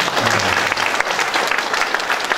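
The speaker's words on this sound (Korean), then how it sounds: "박수 한번" An audience at a county ceremony appointing publicity ambassadors in Yangpyeong claps in a dense, sustained round of applause, with a faint murmur of voices beneath.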